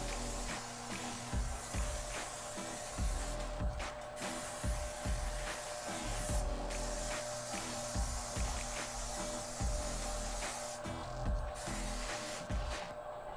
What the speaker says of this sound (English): spray it with Pam on the inside